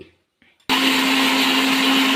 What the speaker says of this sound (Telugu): ఇప్పుడు పచ్చిమిరపకాయలు వేసుకుందాం మిక్సీలో